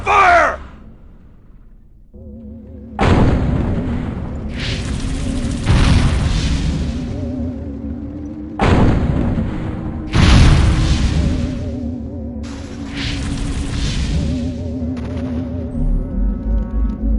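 Deep booming explosions and blasts roll through the Destroy All Humans game in several heavy waves, each swelling loud then fading, with rumbling tails and bursts of gunfire between them.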